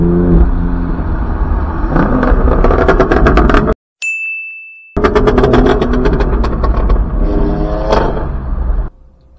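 A loud car with its exhaust valves open roars past, engine revving hard and popping, cut by a short electronic tone before the thunderous exhaust returns and then fades.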